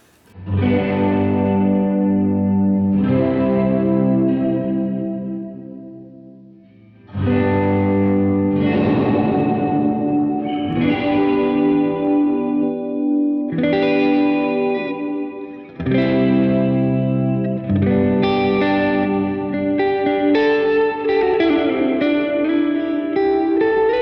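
Electric guitar chords ring out through a UAFX Golden Reverberator pedal at 100% mix with shimmering chorus, several strummed phrases swelling and decaying with lush, wavering tails, no voices.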